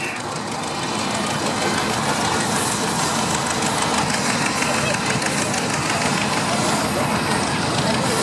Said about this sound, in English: just coming towards me now, a beautiful example of a ploughing engine